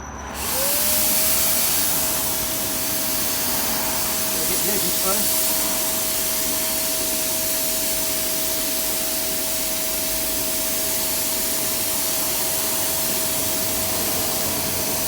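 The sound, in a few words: spray painting a panel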